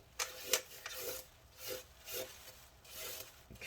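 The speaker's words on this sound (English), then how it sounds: "I'm just using a toothbrush and scrubbing in between all the keys to try and get" A toothbrush scrubs between the keys of a 15-inch Retina MacBook Pro (mid 2015, A1398) keyboard, making close, rhythmic raspy brushing strokes, about eight bursts in quick irregular succession with no talk.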